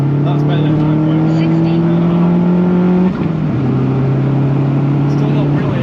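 Hard acceleration in a Vauxhall Zafira GSI brings a loud, steady engine drone that climbs in pitch, dips sharply at a shift after about three seconds, then pulls on. Someone speaks over the engine.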